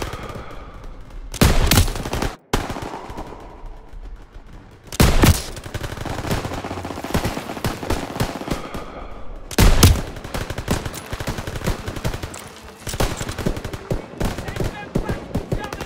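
Machine gun fire in the Call of Duty WWII campaign at a bridge battle, bursts of automatic gunfire and heavy booms repeating through the scene amid constant combat noise and shouted voices.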